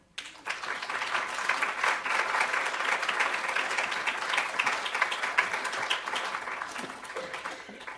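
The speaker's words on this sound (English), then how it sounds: "I think the applause demonstrates our appreciation of your fabulous presentation here" Audience applause after a talk on engagement with Aboriginal and Torres Strait Islander communities, a dense, steady clapping from a sizeable crowd that swells quickly, holds for several seconds and thins slightly toward the end.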